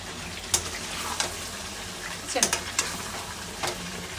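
Potatoes fry in a wok (kadai) with a steady sizzle, punctuated by sharp clinks and scrapes of a spatula as they are stirred.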